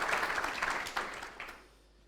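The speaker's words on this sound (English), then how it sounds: "Let's give him a clap." An audience at a networking event applauds after a talk, a brief burst of many hands clapping that starts full and tapers off quickly within two seconds.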